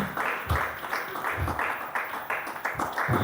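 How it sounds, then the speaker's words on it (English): An audience in a talk or storytelling gathering applauds, a close burst of hand clapping that swells and rolls unevenly for a few seconds. "Please give man a round of applause"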